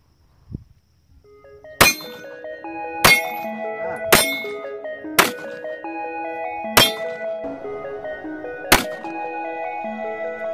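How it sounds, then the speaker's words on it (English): Six sharp shots from a Walther PPS M2 9mm pistol fired by a twelve-year-old at a range, spaced about a second apart and each followed by ringing metallic clangs from steel targets, close and crisp. "Here's Ryan shooting the Walther PPS M2."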